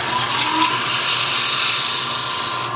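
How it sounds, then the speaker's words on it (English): A loud, steady high-pitched whir of sanding against a spinning wooden platter on a lathe, continuous and close, with no voices. "sand that out, perfect your bead, sand your rim."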